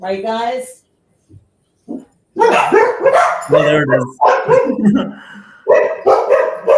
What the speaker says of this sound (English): The dogs might bark in a minute because my dog is home.